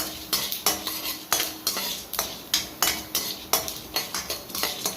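A metal spoon scrapes and clinks against a pan while chana dal is stirred and fried for beetroot poriyal, with quick, regular strokes and a faint sizzle underneath.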